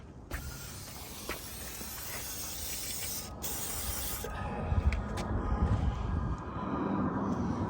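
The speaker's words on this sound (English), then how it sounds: "So we'll spray that down more." A steady hissing spray from an aerosol can runs continuously for several seconds, close by, on a stuck door of a 1966 Ford Country Sedan wagon, with faint background noise and light clatter.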